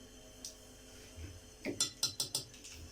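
Spoons of sugar go into a bowl for apple, pomegranate and banana ice cream: a few soft taps, then a quick run of five bright metallic clinks of spoon against dish, close and clear.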